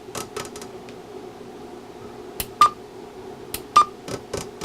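Stryker SR-955HP radio scanner giving two short, thin beeps among scattered sharp clicks of its buttons, quiet and close, with no talk.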